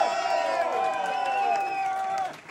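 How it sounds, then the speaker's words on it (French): A pub crowd at an AC/DC tribute gig in Galway lets out a sustained collective cheer and shout of voices, rising together and holding before tapering off at the end. "s'il vous plaît, faites des bruits pour JP"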